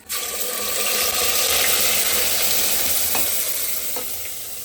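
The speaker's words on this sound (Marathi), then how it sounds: "कढीपत्ता टाकलं खूप जास्त तडतड करतो" Curry leaves crackle and sizzle in hot oil for a tempering, a dense continuous frying hiss close by with a couple of sharper pops, and no voices.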